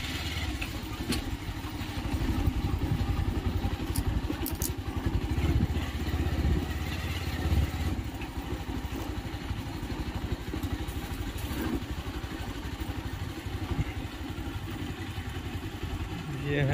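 A motorcycle engine runs steadily and fairly close on a rural outing near wandering peacocks, with a low rumbling idle and mechanical clatter throughout while someone talks over it.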